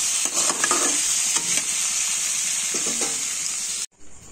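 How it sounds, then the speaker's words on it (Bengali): Pumpkin slices fry with black cumin in a pan, sending up a loud, steady sizzle with a few scraping stirs, then cutting off abruptly near the end. "কুমড়ো ভাজা হচ্ছে"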